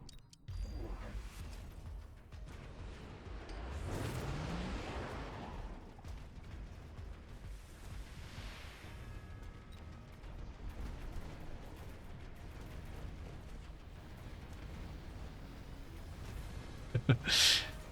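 Missile strikes in the strategy video game Mechabellum: rumbling explosions and mechanical clatter roll on steadily, with whooshing swells and a sharp burst near the end.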